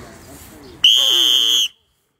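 A single sharp, piercing whistle blast sounds for under a second, loud and close, after some quieter background chatter.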